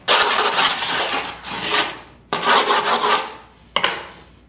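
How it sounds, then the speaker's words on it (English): A razor blade scrapes skateboard grip tape along the deck edges: three loud, close rasping strokes, each a harsh gritty scrape that fades out before the next begins sharply, with no talk. "So I'm gonna hold the board over the counter and start scraping the sides."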